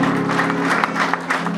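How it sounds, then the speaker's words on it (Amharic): An audience claps at a church welcome gathering, a short, dense burst of applause that continues steadily throughout, close and fairly loud, with a faint tonal hum beneath it. "ቃል ስለገባ ጨምራችሁ አጨብጭቡ።"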